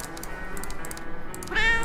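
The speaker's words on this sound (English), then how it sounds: "Get the cat." A cat meows in the video game Tokyo Dark, a single clear, fairly loud meow rising near the end over a steady background of game ambience.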